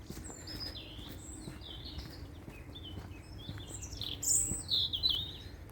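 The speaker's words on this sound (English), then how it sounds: "Birds singing." Springtime birds sing in quick chirps and warbling trills, growing louder and closer toward the end over a low outdoor background hum.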